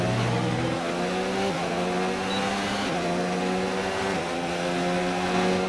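A Formula 1 car at full throttle in F1 2019, its engine screaming loud and steady as the pitch climbs and then drops at each upshift, roughly every second and a half, with only faint talk behind.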